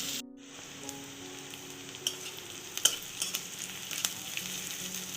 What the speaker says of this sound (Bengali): পাল্টে পাল্টে পেঁয়াজটাকে লাল লাল করে ভেজে নিতে হবে